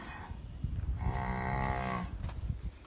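A cow in heat on a farm near a barn and pasture lets out a single long, close moo that swells and then fades, over low rustling background noise.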